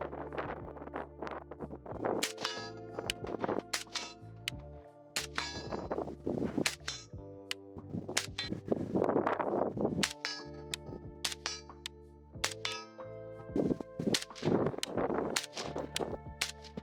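Repeated suppressed shots from a short Zastava M85 rifle fitted with a Dead Air Wolverine suppressor, sharp ringing reports in irregular bursts with metallic clangs between them, outdoors and no talk.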